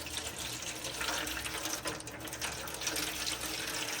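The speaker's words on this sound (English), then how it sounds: "You gotta add some water in there to steam it." Water is poured into a tray of marinated tandoori chicken before it goes into the oven, a steady splashing stream with a slight gurgle, close and continuous, with no talking.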